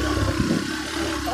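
A motorcycle engine hums at a steady mid pitch while riding toward Phulchowki, close and continuous for a brief moment.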